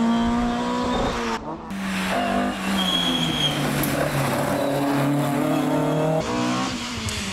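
A Ford Escort twin cam historic rally car on a stage of the Rally de Asturias Historico, engine loudly revving up and down through gear changes, passing close by without talk.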